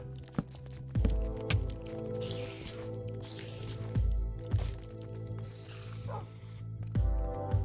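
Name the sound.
tamed dogs attacking spiders, video game Minecraft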